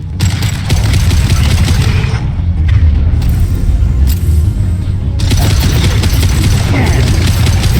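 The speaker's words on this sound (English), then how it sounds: "Firing a high-impact shot." Heavy sci-fi gunfire from Mass Effect 2 on the abandoned colony of Horizon: a dense, continuous barrage of booming high-impact shots, loud and close, briefly thinning near the middle before resuming at full intensity.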